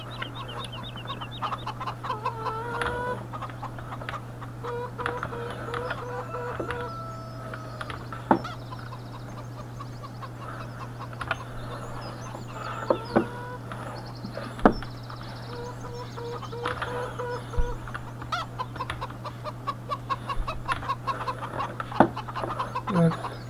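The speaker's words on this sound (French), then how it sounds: "on va entendre les poules" Hens clucking on a farm, scattered close clucks and short calls over a steady low mechanical hum, with occasional clicks and knocks.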